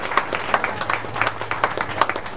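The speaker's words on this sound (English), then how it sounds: "Give him a big round of applause." Audience applause after a speaker at a meeting, a thin patter of scattered claps from a modest crowd indoors, moderately loud and steady for a few seconds with no talk over it.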